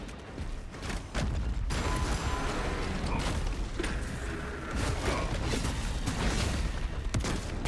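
Weapon reloading in a space shooter game with a bolt sniper build, heard as continuous mechanical clicking and creaking under a dense wash of game noise and distant gunfire, with sharp transient clacks scattered throughout.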